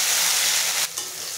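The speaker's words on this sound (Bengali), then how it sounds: "আদা রসুন বাটা, কাঁচা পাকা লঙ্কা বাটা, টমেটো কুচি ভালো করে ভেজে নেব" Ginger-garlic paste, chilli paste and chopped tomato fry in a pan with a dense, even sizzle that briefly dips midway, then carries on a little softer.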